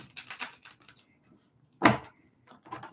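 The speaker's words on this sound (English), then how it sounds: "I'm going to do one more shuffle because it feels right in the body" Tarot cards are shuffled during a live psychic reading, giving a short crisp riffle burst after a few softer rustles and taps, with quiet handling noise before and after.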